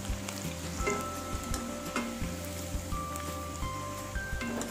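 Restaurant-style veg manchurian balls fry in hot oil with a dense, continuous crackling sizzle, close by and fairly quiet, along with a few faint clinks and stirring sounds and no talk.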